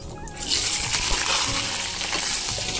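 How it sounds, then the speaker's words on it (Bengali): Cut potatoes hit hot oil seasoned with whole cumin in a wok, breaking into a busy bubbling sizzle after a quieter start, close and continuous with no speech. "আমি কড়াইতে দেখো তেল দিয়ে দিয়েছি আলুটা ভাজবো বলে।"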